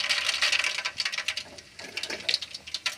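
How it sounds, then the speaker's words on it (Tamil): Mustard seeds crackle and sputter in hot oil for a village-style garlic and pepper kuzhambu, a dense, close patter of tiny pops that swells and fades in irregular bursts, with no voices. "கடுகு போட்டுக்கலாம்ப்பா."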